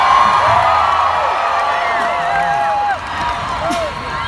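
Festival crowd at a Paul McCartney set at ACL Fest in Austin, cheering and whooping with scattered high shouts and whistles, a broad sustained roar that dips briefly midway and then swells again.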